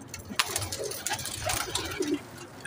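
Teddy pigeons coo in a rooftop loft, low throaty calls rising here and there amid clicks, flutters and scattered background noise, with a voice faintly present.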